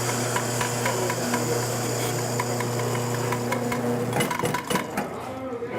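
A coffee grinder grinds beans for pour-over coffee: a steady, close motor hum with rattling clicks, shifting to a rougher, uneven grinding texture for the final couple of seconds.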